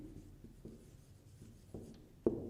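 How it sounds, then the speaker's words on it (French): Handwriting on paper during a primary-school French lesson on antonyms, a series of soft pen or chalk scratches and taps with a sharper stroke near the end, close and quiet, no talking. "on va écrire les deux mots"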